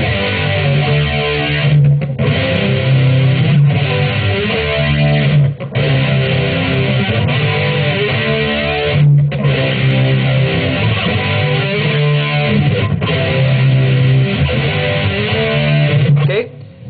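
Distorted electric guitar plays the closing riff of a song, a dense, loud, chugging metal passage with power chords and steady rhythmic phrasing, continuing without talk for about seventeen seconds.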